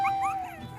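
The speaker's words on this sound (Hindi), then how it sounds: "ये भी कुत्ता" A puppy gives a brief, close, high-pitched whimper with a thin rising whine, lasting under a second against a low background murmur.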